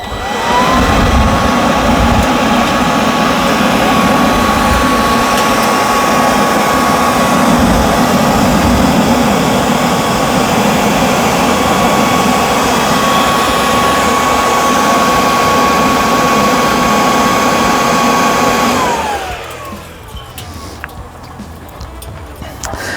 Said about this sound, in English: a leaf blower or an old hair dryer is something great when you're starting charcoal